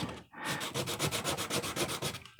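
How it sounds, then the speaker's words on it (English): Sandpaper rubbing over a hand-carved wooden owl, a steady run of close, rhythmic scratchy strokes back and forth with a brief pause near the start. "When you sand, don't press hard down when you're sanding."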